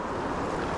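Wind gusts steadily across a Colorado mountain creek during summer brook trout fishing, a dense broadband roar buffeting the microphone for under a second, with no talking.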